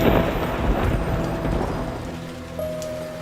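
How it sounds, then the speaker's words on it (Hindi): Heavy rain pouring down at midnight in a dense forest during a storm, a dense roaring wash with low rumbling beneath, loud and close and fading slightly toward the end. "या अल्लाह, कितनी तेज बारिश है।"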